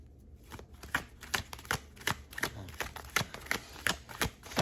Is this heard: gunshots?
no